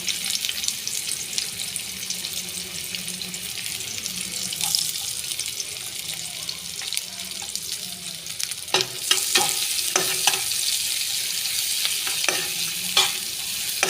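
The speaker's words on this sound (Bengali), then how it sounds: "পেঁয়াজটা ভালো করে ভেজে নেব।" Onions frying in a pan of oil with a little sugar, being stirred, give a steady close sizzle with clattering scrapes and stirring bursts in the second half, and no voice is heard.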